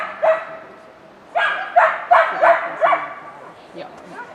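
A dog barks several times in a burst of sharp, close yaps during Finnish working-dog training outdoors, with a pause before a quick run of four or five barks.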